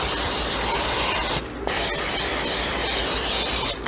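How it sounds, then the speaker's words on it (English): Cooking spray hisses steadily from an aerosol can onto a waffle iron, a loud close spray with a brief pause partway through before it resumes. "So I'm going to spray my waffle iron again"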